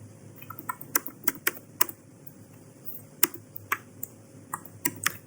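Sharp, separate clicks of keys on a computer keyboard as shortcuts and Enter are pressed, a dozen or so irregular taps over a low steady hum, close and crisp with no voice.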